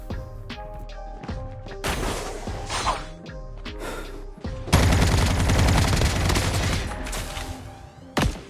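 Gunfire and sniper shots in Call of Duty Mobile solo-versus-squads gameplay, with sharp individual cracks followed by a sustained, loud burst of automatic fire and a final late shot.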